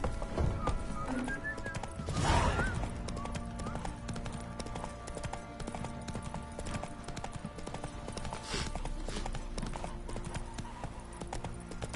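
Hooves clip-clop steadily as Roach, a horse in The Witcher III: Wild Hunt, is ridden at an even walking pace, under faint game ambience with a brief louder swell.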